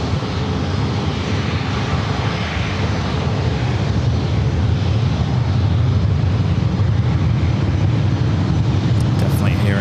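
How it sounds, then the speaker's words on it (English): F-16 and F-18 fighter jets taking off near San Diego airport, a loud, continuous, broadband jet roar that holds steady throughout, unseen in the distance. "Definitely hearing F-16s, F-18s taking off."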